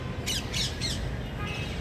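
Birds call at dusk, three quick squawks in a row followed by a fainter fourth, heard over a low steady outdoor rumble with no talking.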